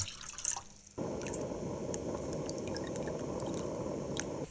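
Water pours steadily into a pot for ramen broth, a continuous splashing stream that starts abruptly and runs for several seconds, close and moderately loud.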